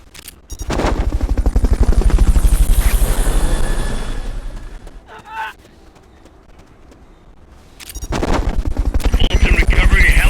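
In the video game Metal Gear Solid Peace Walker, a Fulton recovery helicopter gives off a loud, rapid rotor chop. The chop fades out midway, leaving a brief quieter gap with a short voice-like blip, then surges back in.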